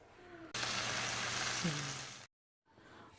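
Charro beans set over a fire give a loud, steady broadband sizzle and bubbling that starts abruptly and runs for nearly two seconds. It cuts off into brief silence, then softer cooking noise returns.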